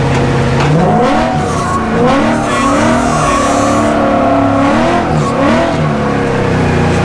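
A car spins tight donuts in first gear, its engine revving hard and rising and falling in steady waves over the rumble of the tyres, loud and close, with no voices.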